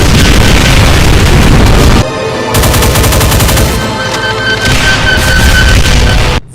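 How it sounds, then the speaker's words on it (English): Cyberdemons in a Doom mod launching a volley of homing, spiraling rockets: a loud, rapid stream of gunfire-like bursts and booms, then a stuttering mechanical whir with rhythmic pulses before it cuts off. "volley of homing spiraling rockets"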